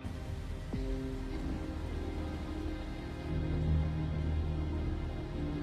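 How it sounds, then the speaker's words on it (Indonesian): Heavy rain falls as a dense, steady hiss that swells slightly halfway through, with no voices over it. "Dalam guyuran hujan deras"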